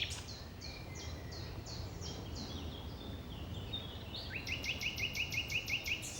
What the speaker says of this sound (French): C'est le rossignol. Il chante en plein jour, on l'entend aussi la nuit.